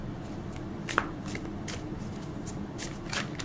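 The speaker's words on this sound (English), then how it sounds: "Let me shuffle one more time" A Rider tarot deck is shuffled by hand, a steady soft riffling of cards for a few seconds with one sharper snap partway through, close and alone without speech.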